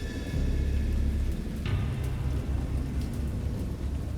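A thunderstorm in the horror game Dagon, with a steady loud wash of rain and a low rolling rumble of thunder that persists throughout, plus a faint tonal hum fading early on.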